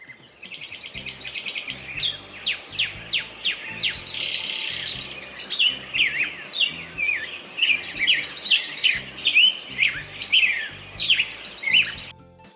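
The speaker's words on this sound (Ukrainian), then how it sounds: "розчевещаться щоранку птахи на різні голоси" Overwintering birds sing in spring, several voices overlapping in a bright chorus of rapid chirps and trills that come in repeated bursts, fairly close and clear over a quiet background.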